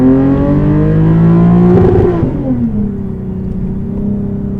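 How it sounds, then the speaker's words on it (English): A Lexus IS250 engine revs hard with a rising whine toward the rev limiter, bounces off it briefly, then drops back to a steady lower idle-like hum, loud and close, no voices. "I want to like bounce off the rev limiter once"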